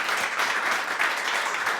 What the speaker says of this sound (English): A round of applause for our winner in the Audience Award